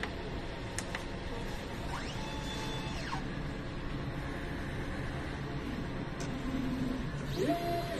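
An inkjet printer running a nozzle test whirs and hums continuously, with repeated carriage sweeps rising and falling in pitch and a few clicks, moderately close.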